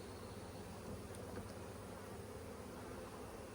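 A dense swarm of honey bees at an open hive being split, their buzzing a continuous close hum that stays steady throughout, with no voices.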